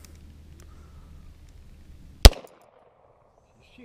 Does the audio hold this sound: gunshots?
yes